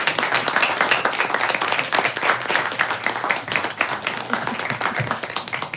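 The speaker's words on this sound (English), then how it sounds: "Let's give them one more round of applause." Steady applause from an audience at a poetry reading night fills the room, dense overlapping clapping at a constant level throughout with no break.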